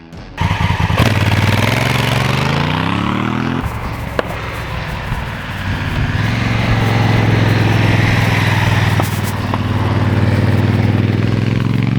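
A Honda CRF1000L Africa Twin with its stock exhaust runs loud and close, its twin engine idling and rising smoothly through the revs in steady, linear pulls, with a brief dip before climbing again.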